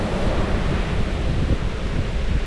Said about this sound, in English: Starting to cool up a little bit and starting to pour water sideways.